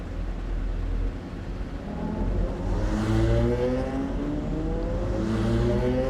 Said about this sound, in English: The cars are released then, and the clock starts immediately